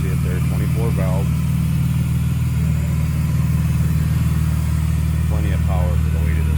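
A 1999 Plymouth Prowler's fuel-injected 24-valve engine idles smoothly, a loud, steady low rumble close by, with someone talking over it at the start and again near the end.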